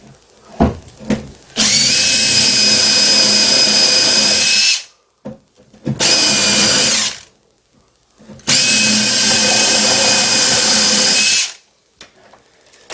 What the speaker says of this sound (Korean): 네 구멍을 뚫어줍니다.